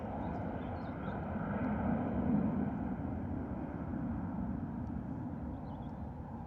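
A departing aircraft climbs away from Stansted Airport with a steady, distant roar that swells slightly and then holds.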